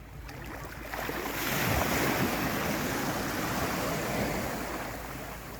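Waves washing onto Shell Beach in St. Barth, a broad steady rush of surf swelling and holding, with gusty wind buffeting the microphone and no speech.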